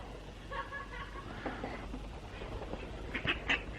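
Ducks in the gardens of a theme park quack in short, fairly close bursts, several calls grouped together late in the stretch over quiet outdoor background.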